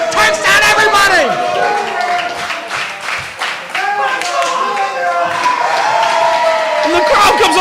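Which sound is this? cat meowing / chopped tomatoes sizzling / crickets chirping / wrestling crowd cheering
wrestling crowd cheering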